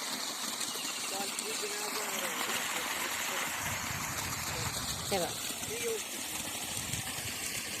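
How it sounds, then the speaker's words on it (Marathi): Steady broadband rush of water flowing along an open irrigation channel to a sugarcane field, continuous throughout, with a voice speaking intermittently over it. "असं पाटानं पाणी चाललंय उसाला"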